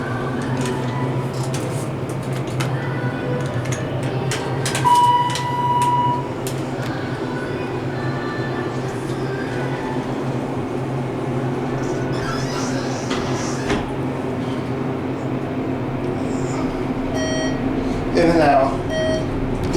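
ThyssenKrupp traction elevator at a Hilton Garden Inn/Homewood Suites running, a steady low hum and rumble inside the car with occasional beeps and chimes, while a person talks over it.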